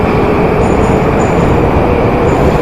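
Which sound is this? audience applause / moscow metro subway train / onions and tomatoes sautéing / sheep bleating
moscow metro subway train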